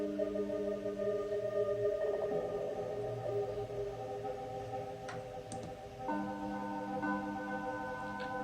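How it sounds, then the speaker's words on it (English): Modular synth scrubbing through a sample buffer, soaked in heavy reverb: sustained layered drones with shifting tonal bands and a few brief high glints, steady and fairly loud with no voices. "I'm gonna drown that in a little more reverb."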